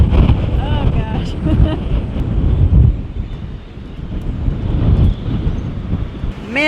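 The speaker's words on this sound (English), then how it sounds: "Man, it's windy." Heavy wind during a storm buffets the microphone in a continuous low roar, with creaking and water sounds from a boat underneath and a voice faintly mixed in.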